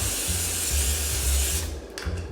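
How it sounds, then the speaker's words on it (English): A loud hiss of cooking spray bursts out continuously for over a second into a crock pot, then stops, followed by a few short clattering knocks. "I'm gonna take some Pam and spray it really good"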